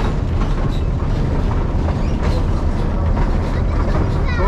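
A park tourist train rumbles along heavily, with low, continuous engine and wheel noise close by and some clatter on top.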